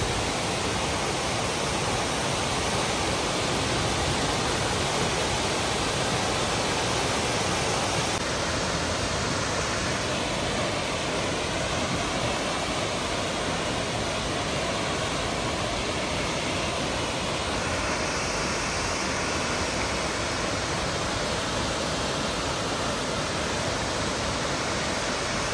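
Tortum Waterfall in Turkey roars as a steady, dense rush of falling water, constant and loud throughout with no voices.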